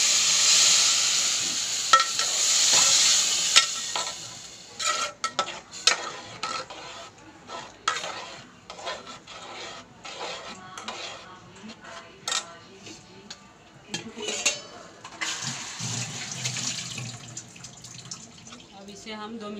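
Hot water poured into roasted semolina upma in a pan, a brief hiss and sizzle giving way to irregular stirring, scraping and clinks of a utensil, close by with no talk.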